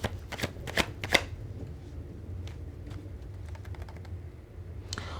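A deck of tattoo-themed tarot cards being shuffled, several quick riffling bursts up close at the start, then a quieter stretch with light handling and a final soft riffle.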